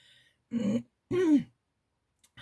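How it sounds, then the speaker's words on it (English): Two short, rough coughs close to the microphone, one after the other, followed by a faint brief throat sound. "I have a cough. So you will maybe hear a lot."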